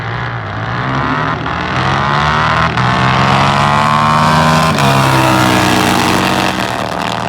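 A Harley-Davidson V-Rod drag racing motorcycle roars loudly down the track, its engine note rising steadily through the gears before easing off near the end.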